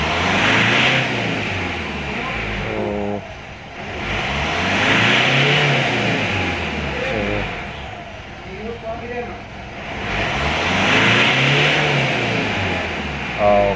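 A Mitsubishi Montero Sport engine, already warm after a check-engine fault was cleared, revs up hard in repeated loud rising-and-falling surges, close by, with idle dips in between and people talking over it.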